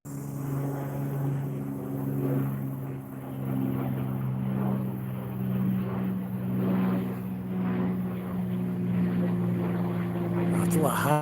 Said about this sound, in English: Where's the plane? There it is.